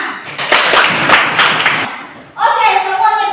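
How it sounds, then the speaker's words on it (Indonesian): A classroom of high school students bursts into a short round of applause, a dense flurry of claps that fades after about two seconds, followed by a voice speaking. "Tepat sekali, tepuk tangan."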